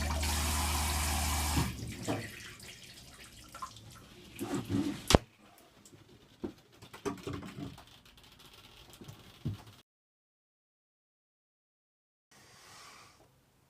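Water runs from a newly fitted shower on a narrowboat, first a loud steady spray, then intermittent splashing and drips with clunks, before falling silent and a brief faint spray returns.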